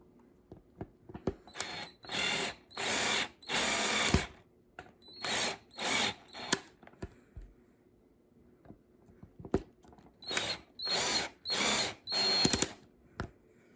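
A power drill drives screws to mount the bridge on a headless electric guitar during final assembly, running in repeated short bursts of several seconds each with pauses between, fairly close and loud, no talking.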